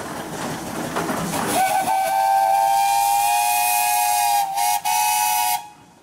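A steam engine sounds its whistle at a pioneer engineers parade, a loud sustained blast that holds steady for several seconds over an airy hiss of steam, with brief dips before it stops.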